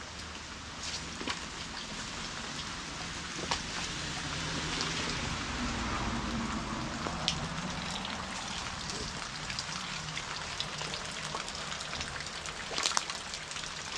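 Rain falls steadily across a sugarcane plantation, a continuous broadband patter with a few louder drops and gusts, moderately close and with no talk over it.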